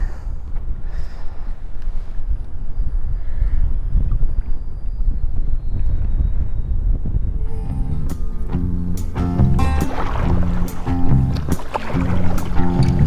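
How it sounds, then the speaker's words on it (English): A kayak is paddled on saltwater during a fishing trip, with steady wind buffeting the microphone and low rumbling water, then clicking, knocking strokes and splashes near the end; no voices. "Let's paddle back in."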